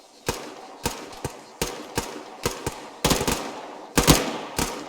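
Bursts of automatic rifle fire in the military shooter Arma 3, sharp repeated volleys in irregular groups of two to five shots, loud and close with brief gaps between bursts and no talk.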